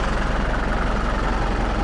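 A John Deere 6403 tractor engine runs close by at a steady idle, a loud, low, even rumble with a regular pulsing beat and no talk.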